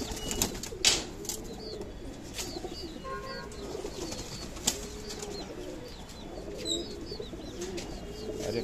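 Pigeons being kept for sale coo softly in a loft, with a few brief wing flaps and light rustling throughout the surrounding ambience.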